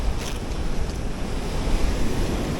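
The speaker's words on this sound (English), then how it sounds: "We got a southeast wind blowing." A steady 10 to 18 knot southeast wind blowing across the sea, heard as continuous loud rumbling buffeting on the microphone with a surf-like wash underneath and no voices.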